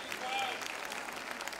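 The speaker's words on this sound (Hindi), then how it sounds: "मैं चाहूँगा ज़ोरदार तालियां अमिता के लिए" School annual day audience applauding for Amita, a short burst of crowd clapping that starts strong and tapers, with a voice speaking briefly over it.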